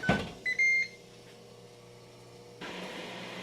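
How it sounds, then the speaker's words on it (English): An air fryer grill cooking steak: a door clunk, a few short electronic beeps, then a steady low fan hum that swells as the appliance starts running, close by with no talk. "place it in the air fryer grill, and we let it cook"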